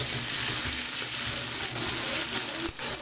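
Tomato and green chillies frying in a pan for a vegetarian lau ghonto, a steady close sizzle with scraping stirring strokes throughout, no talking.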